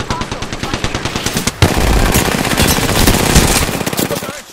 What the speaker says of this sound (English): shots fired and they're hitting